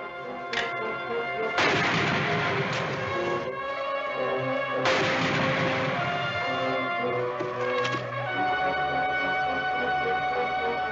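Loud, heavy rifle gunfire in a 1959 American film comes as a few booming shots over a continuous orchestral music score.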